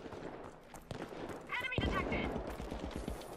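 Automatic gunfire from The Finals video game, a burst of shots rattling over busy in-game noise and a talking voice, with a sharper bang near the middle.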